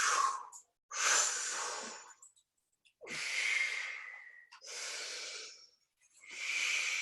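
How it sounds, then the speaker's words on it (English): Slow, deep breaths during big shoulder circles, with long airy inhales and exhales alternating in a steady rhythm and short silent gaps between them, close and clear. "So breathe on the way up, exhale on the way down."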